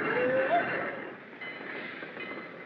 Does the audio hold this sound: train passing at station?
yes